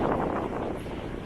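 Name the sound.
strong wind during a storm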